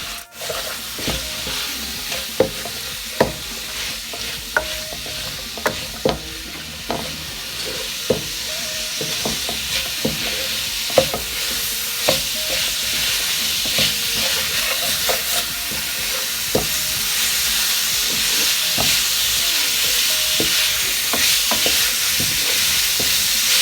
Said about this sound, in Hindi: मिक्स सब्जियां डालेंगे।